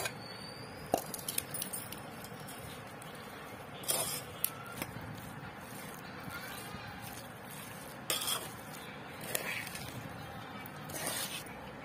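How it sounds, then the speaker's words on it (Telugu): Mango and ginger pickle with salt is mixed in a bowl, giving quiet, scattered clinks and scrapes of a spoon against the dish in a still room. "దీన్ని బాగా కలుపుకోవాలి"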